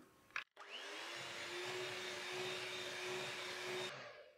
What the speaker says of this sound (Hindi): और अब इसमें हम एक एक करके अंडा डालेंगे और इसे बीट करते जाएंगे।